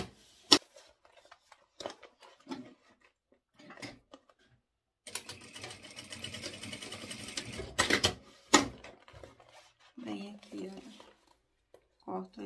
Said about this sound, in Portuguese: eu vou fazer um retrocesso no zíper aqui dos dois lados